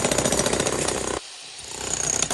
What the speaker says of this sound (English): you have to jackhammer your entire concrete house?